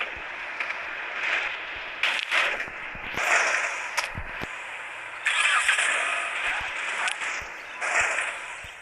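A car engine runs at moderate volume while the car is manoeuvred slowly away from a wall, with steady mechanical noise and intermittent clunks and bumps.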